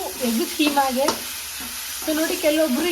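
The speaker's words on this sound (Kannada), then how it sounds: "ಇವಾಗ ನಾನು ಟೊಮೆಟೊನ ಹಾಕೊಂಡು ನೀಟಾಗಿ ಇದನ್ನ ಮಿಕ್ಸ್ ಮಾಡ್ಕೊಳ್ತಾ ಇದ್ದೀನಿ" Tomatoes stirred into hot oil in a pan for egg kheema, with a steady sizzle and scraping stir strokes throughout, plus faint tonal sounds in the background.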